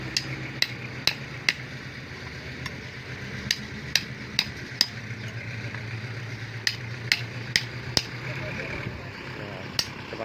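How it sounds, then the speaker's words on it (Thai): A hole is drilled into compacted soil before a concrete road is built, for a compaction test. Sharp, irregularly spaced taps and clicks ring out over a low background hum while someone talks. "เจาะรูเพื่อทำผลเทสนะครับ"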